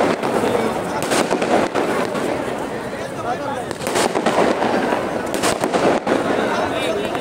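Fireworks crackle and pop in dense bursts at a political welcome gathering, loud and continuous with sharper bangs near four and six seconds, mixed with crowd noise and a voice over a loudspeaker.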